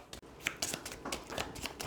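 A deck of Terraforming Mars cards is shuffled by hand at the table, giving a short run of close, crisp riffling and sliding card noise.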